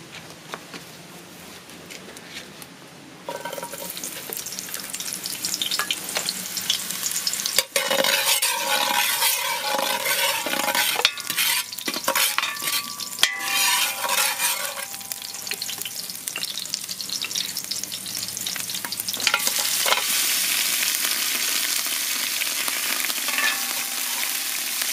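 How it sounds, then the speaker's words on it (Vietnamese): Shallots and pork bones stir-fried in a pot for a spicy crab noodle soup, a steady loud sizzle and crackle of hot oil with stirring scrapes, swelling after the first few seconds and continuing without talk. "bây giờ mình sẽ phi hành và xào sơ qua xương heo"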